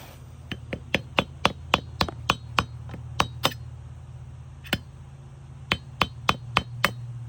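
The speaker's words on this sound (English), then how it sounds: "It's a little mini dead blow, and it's got a plastic side and a steel side." A small mini dead blow hammer, plastic side, taps repeatedly on a trailer axle wheel bearing seal, about a dozen and a half sharp, close knocks in uneven bursts with a brief pause midway.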